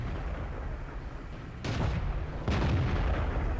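Tank cannon shots from the Japanese Chi-Ri tank in World of Tanks, with two heavy booming blasts about a second apart over a constant rumbling engine drone.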